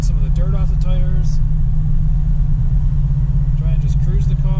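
An LS-swapped Camaro with a lumpy cam rumbles at low speed in first gear, a loud, deep, steady engine drone with the lopey idle pulse, while someone talks over it.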